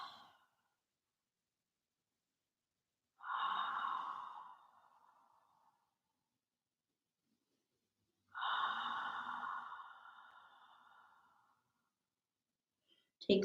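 Two slow, deep breaths during a vinyasa yoga practice, each a long breathy exhale close to the microphone, separated by several seconds of near silence, with no speech.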